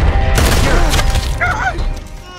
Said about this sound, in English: I had to bring the shotgun out.